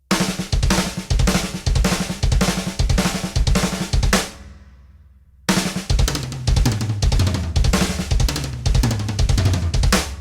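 Drum kit playing a fast double bass fill with uneven hit strength, loud and close, with a dense run of strikes that stops briefly as a cymbal rings out, then starts again.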